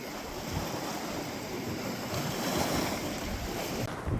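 Cold wind buffets the microphone on a rocky sea coast during float fishing, a constant broad roar with surf washing underneath and no voices.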